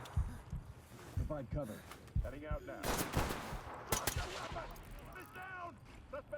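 Gunfire in the tactical shooter Ready or Not sounds as sharp bursts of shots, with two heavy volleys near the middle, mixed with game sounds while someone talks excitedly over it.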